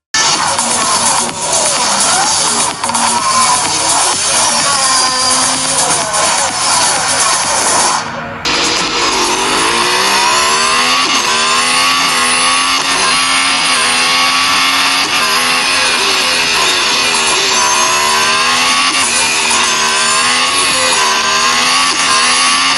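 Car engine revving continuously in the racing video game Real Racing 3, played on a RedMagic 5S phone; loud sustained engine drone with rising and falling pitch as the car shifts gears, with no talking over it.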